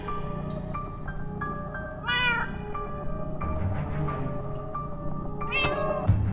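Winslow the cat meows in Minecraft Story Mode, several distinct meows and a drawn-out yowl rising over a steady game music bed, clear and close.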